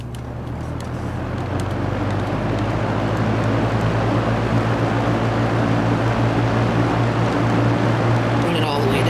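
A trash-picked Kenmore two-speed box fan runs on high with a loud, steady motor drone and low hum that persists throughout, with air rushing over it and no clear talking.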